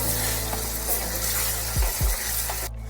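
Leftover water from boiling potatoes poured into a pan of chopped tomatoes for an egg and potato bhujia, giving a loud, continuous close hiss with a couple of low thumps before it cuts off near the end.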